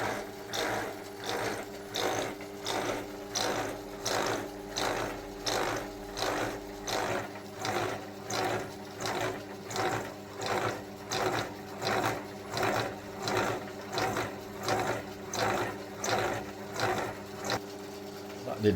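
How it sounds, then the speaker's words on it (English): Slitting saw on a milling machine cutting a slot under power feed, part of a steam brake build for a Romulus type model locomotive: a steady mechanical whir with regular rhythmic pulses about once per second, continuous and fairly close. "All I did was engage the power feed and let the cutter do its job."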